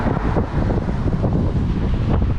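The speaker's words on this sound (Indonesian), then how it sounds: "agak terganggu dengan suara angin" Strong wind buffets a microphone outdoors in Mecca during a windstorm with dust. The rumble is loud, constant and close, with no talking.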